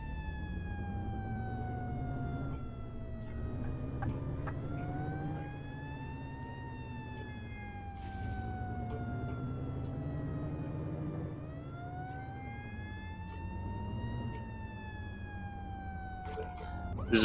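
Emergency vehicle sirens in the Flashing Lights video game cycle through modes, a loud wailing tone sweeping up and down in long steady rises and falls, with brief changes in pattern partway through.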